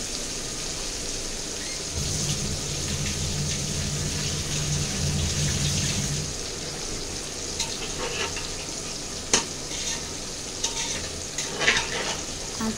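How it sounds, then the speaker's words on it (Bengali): Fish sizzling in hot oil in a pan, a continuous crackling hiss with a few sharper pops and spatters later on, no voices. "এই যে মাছগুলো দিয়ে দিচ্ছি, এক এক করে সব মাছ দেওয়া হয়ে গেছে।"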